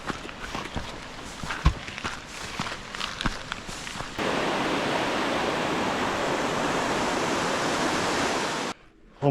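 A mountain river in the Mourne Mountains rushes loudly and steadily in a dense, continuous roar, after a few seconds of footsteps on a trail.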